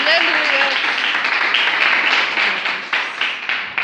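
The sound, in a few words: congregation clapping in church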